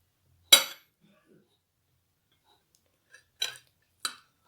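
Spoons clink against a plate while dal and rice are served, three sharp metallic taps, the first loudest, separated by near silence.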